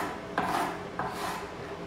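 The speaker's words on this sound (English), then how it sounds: "just cut the capsicum into strips" A knife slices capsicum into julienne strips on a board, with two short, crisp cutting strokes about half a second apart, close and fairly quiet over soft background hiss.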